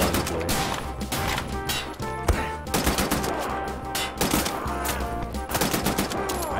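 Assault rifle fire in the video game Wolfenstein: The New Order, loud rapid bursts of automatic shots crackling back to back with sharp impacts, dense and continuous throughout.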